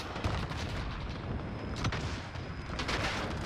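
Gunfire and heavy explosions crack and boom repeatedly on the Khandor Hideout map in Call of Duty Modern Warfare, dense and loud over a constant rumbling battle din, with no voices.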